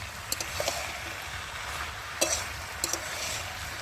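Vegetable stems fry in a pan for a stem chorchori, with a soft, low sizzle underneath. A few quick scraping and clacking stirs come through at intervals. The whole passage is quiet and has no speech.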